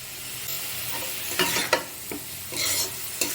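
Cabbage with spices and a little sugar sizzles in a hot frying pan while a spoon stirs and scrapes through it, with several distinct scraping strokes over a soft steady fry.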